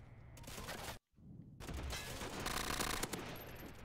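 Rapid automatic gunfire from a video game rifle, loud bursts with a brief silent gap, then more sustained firing.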